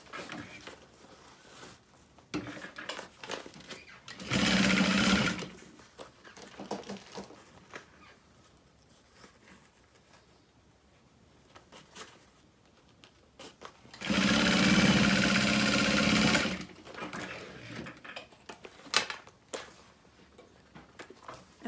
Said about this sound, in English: we're gonna sew up the bottom